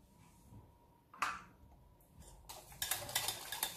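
Plain unsweetened yogurt whisked in a bowl for a no-bake vanilla cheesecake, heard as quiet scraping and clinking strokes of a whisk against the bowl, building into quicker, louder rattling taps.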